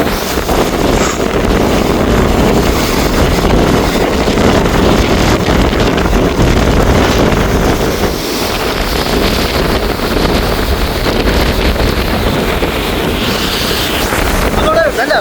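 Rough, churning sea at the Keerimalai coast in northern Sri Lanka, with constant loud surf roar and heavy wind buffeting the microphone throughout, a dense unbroken wash of noise.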